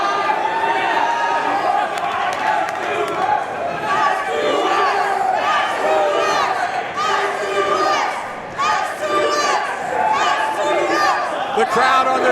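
A wrestling crowd at a CCW Bash event in Hialeah, Florida, cheers and shouts without a break, loud and dense, with scattered individual yells rising out of the roar.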